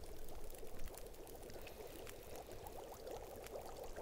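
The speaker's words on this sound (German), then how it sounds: "Ich koche gerade Wasser." Water boils in The Long Dark survival video game, a steady faint bubbling hiss that runs continuously without talk.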